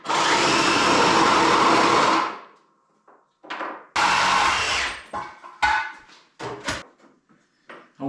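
Power tool cutting and grinding the metal engine flange of a Toro Power Clear 518 ZE snowblower: a loud, close two-second grinding burst, then another, with short scraping touches and clatter between runs.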